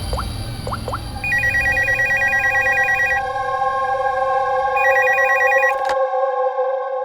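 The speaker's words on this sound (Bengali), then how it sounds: "স্যার, স্টোর ম্যানেজারকে ফোন করছি।" A telephone rings while a call is placed to a store manager, a repeating electronic trill in two bursts over a steady tone, clear and close, ending abruptly with a click before silence.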